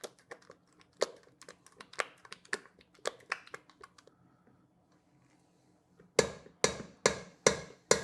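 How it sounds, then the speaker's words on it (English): Spatula beating cream cheese in a bowl, sounding as a string of sharp taps and clicks at an uneven pace, followed by a faster run of louder, regular slapping strokes near the end. "I'll take the spatula and just sort of kind of beat it up a little bit"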